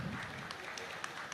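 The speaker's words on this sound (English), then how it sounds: "So a big round of applause to all the teams that pitched." Faint, distant audience applause for the teams after startup pitches at a Kerala entrepreneurship conference, a low wash of clapping with a few sharper claps.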